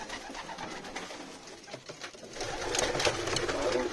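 Pigeons coo softly and flutter inside a loft of young birds, a steady low murmur of calls and rustling with no talk.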